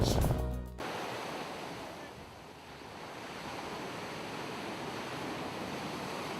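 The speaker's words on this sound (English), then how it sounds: "Now we head to the beach." Ocean surf on a North Shore beach rolls in as a steady, broad wash of breaking waves, with a brief louder burst at the very start and continuous surging noise throughout.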